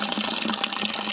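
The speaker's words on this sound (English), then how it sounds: "Yeah, so this is just a trickle coming out now." Water trickles steadily from a well-fed tap with low flow capacity, a continuous close splashing and running sound with no talk.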